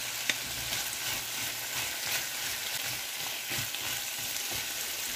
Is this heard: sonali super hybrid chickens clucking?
no